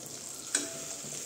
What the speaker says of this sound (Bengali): এখন রসুনগুলো এইভাবে ভাজা হবে একটু।